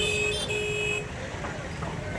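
Cars and buses sit in a morning traffic jam near a goat and sheep market in Uppal, with a sustained car horn toot at the start over steady road noise and nearby voices.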